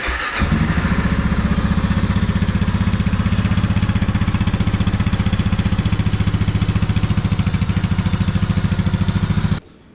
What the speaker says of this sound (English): let's get a sample of the factory exhaust on the KLR